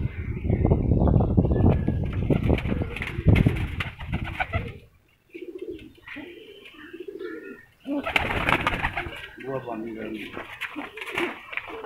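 Soft, throaty green pigeon coos repeat in short rolling phrases, close by, with someone talking loudly over them in between.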